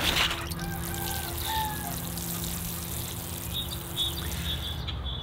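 Water trickling and pouring onto the soil of a freshly repotted beech bonsai, a steady soft dribble with birds chirping in the background.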